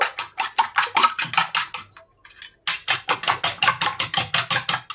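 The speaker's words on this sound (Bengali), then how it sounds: "এখন আমি ভালোভাবে ফেটিয়ে নেব।" Eggs with chopped onion, chilli and turmeric powder are beaten briskly in a bowl, producing fast, even clacking strokes with one short pause midway before the rhythm resumes.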